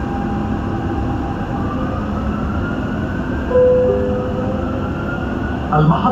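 A Dubai Metro Green Line train rumbles steadily as it rides toward Etisalat, a continuous loud cabin roar with a faint rising whine and a brief electronic tone near the end.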